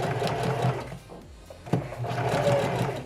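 A sewing machine stitches fabric on a dress made from a men's shirt, a steady close mechanical whir with a brief dip in speed partway through before it runs on.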